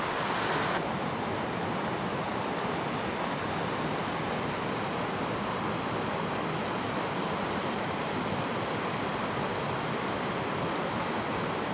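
A shallow, low-flowing mountain stream in East Sikkim, its water rushing in a steady broadband wash that holds constant and fairly loud with no pauses or voices.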